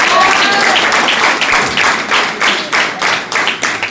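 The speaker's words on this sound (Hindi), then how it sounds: "मैं अपने हस्बैंड के लिए तालियां चाहती हूँ" Audience applause at a women's scooter-handover event in Jogindernagar, Mandi: loud, dense clapping from a crowd that turns into rhythmic, evenly spaced claps in unison.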